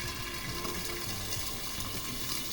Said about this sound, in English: And then I steamed it with some water.